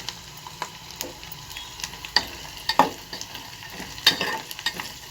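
Dry red chillies fry in a pan with a quiet, steady sizzle, with sharp clicks and scrapes from stirring scattered throughout.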